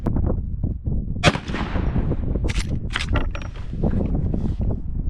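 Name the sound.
360 Buckhammer rifle shots at 50 yards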